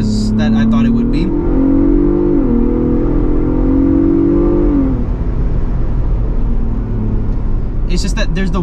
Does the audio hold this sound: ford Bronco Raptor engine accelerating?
yes